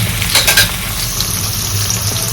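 Sliced vegetables sauté in a pan with salt for a dried-fish curry, a constant close sizzle with a few brief scraping stirs early on.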